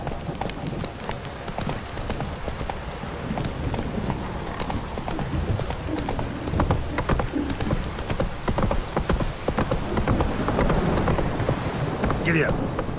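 Roach, the horse in The Witcher 3, gallops in steady, rapid clip-clop hoofbeats through a rainy game world. A voice talks over the hoofbeats.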